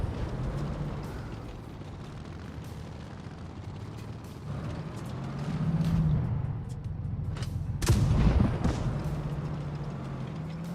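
A tank gun firing in the mobile tank game WoT Blitz, heard as a single broadband boom at about eight seconds over a steady rumbling battle ambience, with a lesser thud near six seconds.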